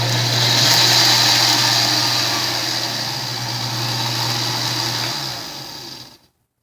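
An Oster blender on its food chop setting grinds thick SunButter made with sunflower oil, a loud steady motor whir with a droning hum that runs for about six seconds and then cuts off abruptly.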